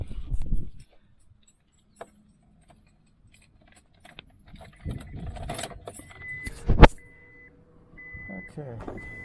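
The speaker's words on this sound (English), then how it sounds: "So what I'm going to do is put my window down so I can reach through the window." The electric window of a 2000 Acura 3.2 TL is lowered, giving a steady motor whine that runs in a couple of stretches after some clunks, rustling and a sharp click, with a person speaking faintly nearby.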